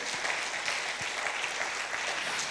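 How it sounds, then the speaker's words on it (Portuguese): A church congregation applauds, a dense, even patter of many hands clapping that holds steady at moderate volume throughout. "Pode aplaudir a Jesus por isso nesta noite?"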